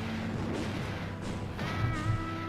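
Artillery shells exploding in a strategy video game battle, a steady rumbling barrage of booms with louder bursts toward the end, dense and continuous rather than isolated blasts.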